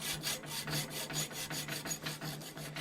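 Hand saw rasping back and forth through a forged latch to cut out a small cube of metal, steady rhythmic strokes about every quarter second, close and continuous with no talking.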